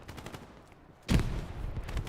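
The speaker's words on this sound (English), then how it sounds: "Good artillery." In Hell Let Loose, an artillery strike lands as a sudden heavy blast about halfway through, followed by rumbling fire and debris that carry on after quieter distant shots.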